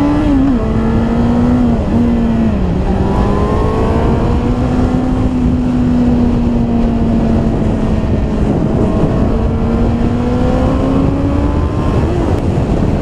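A car drives steadily along a German highway, its engine and road noise forming a continuous loud drone with slowly shifting pitch and no talking.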